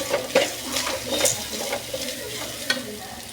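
Pirandai (adamant creeper) sautéing in oil with coconut and tamarind, a steady soft sizzle broken by scraping stirs and light clinks of a spatula against the pan, close and without talk.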